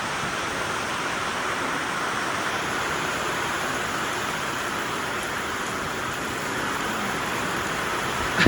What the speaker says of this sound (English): I'm going to show you this rain.